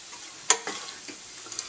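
Spoon stirring chutney and dumplings as they warm in a pan, a sharp scrape followed by a few soft clinks and light sizzling, brief and close.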